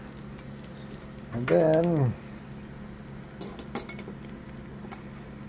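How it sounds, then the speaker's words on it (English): Chopped red onions with cheese are mixed in a bowl, producing a short cluster of light utensil clinks and scrapes near the end, after someone speaks briefly. "Mix that all up"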